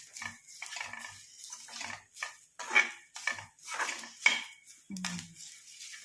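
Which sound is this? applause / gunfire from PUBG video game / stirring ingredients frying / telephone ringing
stirring ingredients frying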